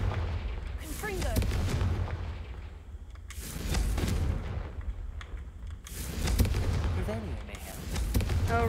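Bursts of Confringo fire-spell explosions in the Hogwarts Legacy video game, three loud booming blasts spaced a few seconds apart, with a game voice speaking between them.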